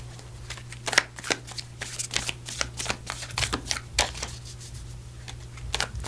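Oracle cards being shuffled by hand in a quiet room, a run of crisp riffling flicks and soft slaps repeating in quick bursts over a low steady hum, close and intimate.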